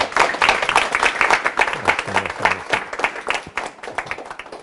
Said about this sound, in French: mais en l'applaudissant, bien entendu.